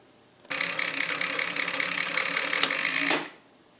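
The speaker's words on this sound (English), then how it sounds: "So with this you can see that the bobbin winder works." An antique Singer 319W sewing machine winds a bobbin in one steady, close mechanical whir lasting about three seconds, starting abruptly and tapering off as the winder kicks off.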